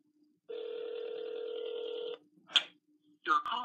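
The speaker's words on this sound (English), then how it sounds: "I'm gonna call Robby on my mom's phone, guys, right here, right now." Dialing a call on a mobile phone: a steady ringback or dial tone holds for under two seconds, followed by a single short beep and then a voice speaking.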